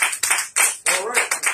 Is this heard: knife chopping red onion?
no